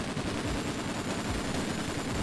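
Automatic gunfire in a video game, a dense, unbroken stream of rapid shots that rattles on for the whole stretch without a pause.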